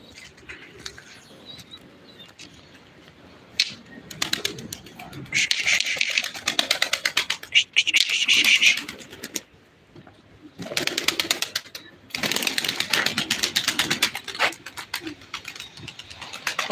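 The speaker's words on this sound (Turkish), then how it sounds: "Buraya nasıl girdi bu kuş?" Pigeons coo and flutter in bursts, wings flapping loudly at close range, with a person talking faintly in between.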